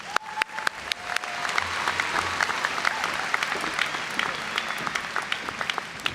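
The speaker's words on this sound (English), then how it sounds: "let's give her a round of applause as she makes her way to the podium" Round of applause at a 2018 CVCC graduation ceremony as a graduate walks to the podium, with sharp individual claps up front swelling into a broad, sustained crowd ovation that stays strong to the end.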